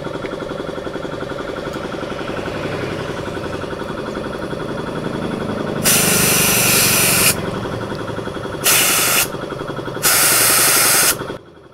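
Compressed air is sprayed into the valve of a Honda Beat Fi engine, giving three loud, close bursts of hissing air, one long and two shorter, over a steady compressor drone.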